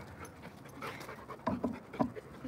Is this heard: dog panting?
yes